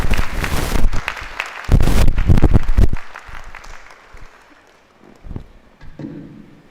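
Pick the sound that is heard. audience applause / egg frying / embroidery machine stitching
audience applause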